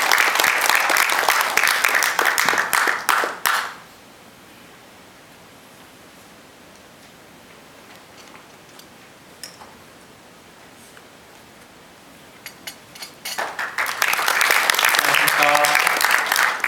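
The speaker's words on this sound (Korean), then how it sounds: "여러분 큰 박수로 맞이해 주시기 바랍니다." Audience applause at an association president's inauguration and executive appointment ceremony: loud, sustained clapping at the start, a quiet stretch, then clapping swelling up again near the end.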